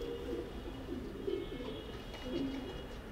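Racer pigeons kept as breeders coo softly and continuously in a loft, several low throaty calls overlapping at a quiet, steady level.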